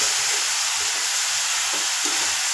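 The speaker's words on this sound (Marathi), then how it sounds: "बघा आता हे गाजर चांगले तुपात भाजून घेऊया" Carrots frying in ghee in a pan for carrot halwa, a steady, close, continuous sizzle that holds at an even level throughout with no voices.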